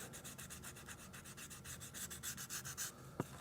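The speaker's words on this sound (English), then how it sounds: "So we'll sand top both the top and the bottom where we will be putting the edge roll." Leather cowboy cuff edges being sanded top and bottom ahead of edge rolling, a steady rhythmic rasping rub of repeated strokes close up, ending with a brief sharp tap.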